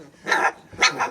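A three-week-old puppy gives two short, high yipping barks, close and fairly loud, with a brief pause between them.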